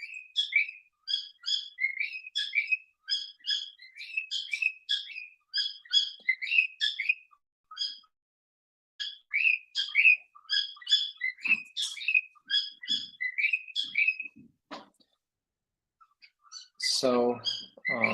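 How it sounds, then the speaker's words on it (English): Pet parrots chirp in rapid bursts of high, sharp tweets and whistles, indoors and fairly close, with a short pause between runs and a brief harsher squawk near the end. "those are my birds chirping, my parrots, my lucky parrots"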